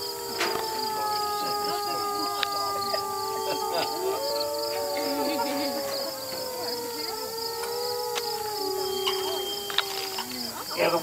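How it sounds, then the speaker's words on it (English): Pack of wolves at a wolf park howling together, several long overlapping howls of different pitches rising and falling, sustained for the whole stretch against a background of insect chirring. "the wolf with the lowest voice in the pack is the female"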